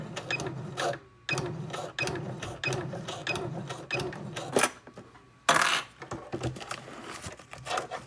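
A sewing machine runs in short bursts while back stitching a pocket on a craft project, its rapid mechanical chatter stopping and restarting several times, close by and fairly loud, with no talking.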